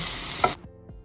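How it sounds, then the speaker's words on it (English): Loud hissing sizzle of edible termites frying in a pan, cutting off abruptly partway through, leaving quiet low rumbling afterward. "continued frying until I had the crispy sound"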